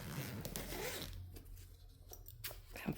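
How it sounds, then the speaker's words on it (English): A zipper on a section of a carry-on suitcase is pulled open in a close, quiet burst of ratcheting rasps, followed by faint handling rustles and soft clicks as the flap is moved. "So I'm going to unzip this section"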